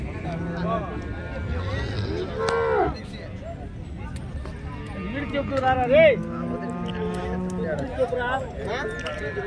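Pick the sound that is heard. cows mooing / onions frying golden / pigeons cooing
cows mooing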